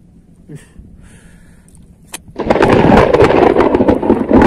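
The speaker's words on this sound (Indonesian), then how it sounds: "petir nih." A sudden loud thunderclap breaks over a quiet fishing spot during a storm, following a brief sharp crack, then rolls on as a dense sustained rumble.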